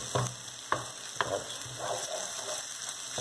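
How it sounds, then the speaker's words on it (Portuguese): A potato-filled pancake fries in a pan with a steady sizzle and a few sharp clinks of a utensil stirring, heard alone and up close. "o que sobe aqui, esse vaporzinho aqui, ó, eu fritando aqui"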